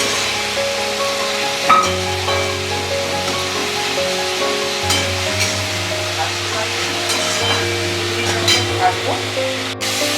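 Ginger, garlic and green chilli paste sizzling in a pan with melted tomatoes for chicken curry, a steady close frying hiss with occasional stirring scrapes and a low hum underneath.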